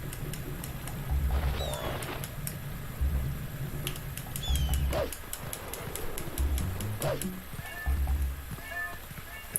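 Short synthetic cat meows from The Legend of Zelda: Twilight Princess repeat at intervals over game sound effects and a low rhythmic pulse.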